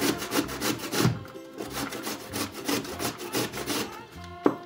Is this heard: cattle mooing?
no